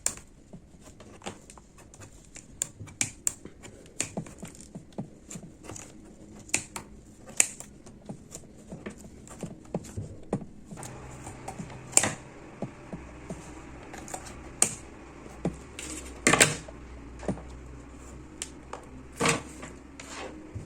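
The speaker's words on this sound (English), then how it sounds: "You're just going to get your pair of scissors and cut the yarn at that bottom part." Scissors snipping through crochet yarn to make fringes, a run of sharp, close clicks and snips in an uneven rhythm, alone in a quiet room.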